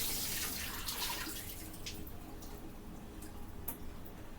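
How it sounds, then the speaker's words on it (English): Thawed shrimp draining in a kitchen sink, a soft continuous trickle and splash of water with faint ticking drips, quiet and close, without talking. "Real quick, I'm going to drain this shrimp."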